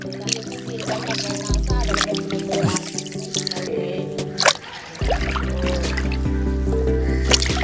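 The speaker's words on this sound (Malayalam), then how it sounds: "ഇനി നമുക്കിതൊന്ന് കഴുകാം നന്നായിട്ട്" Wild grapes are washed in water by hand, with close splashing, dripping and squishing over a steady background hum that shifts partway through.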